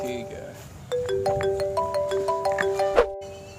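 A mobile phone rings with a bright, stepped electronic melody of rising tones, close and clear, ending abruptly after a few seconds.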